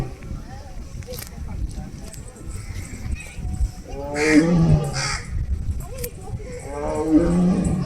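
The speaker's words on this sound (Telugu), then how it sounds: "ఇక్కడ అరుస్తుంది చూడండి పులి" A tiger roaring in an enclosure at Vizag's Indira Gandhi Zoological Park: deep, throaty roars in two bursts, loud and fairly close, with people talking over and between them.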